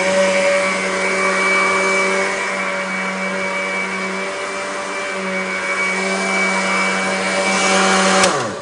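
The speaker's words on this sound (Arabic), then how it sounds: "اوعي تحطي ايدك جوه الخلاط وهو شغال" An electric blender chopping chard runs with a loud, steady motor whine that holds for several seconds before winding down with a click at the end.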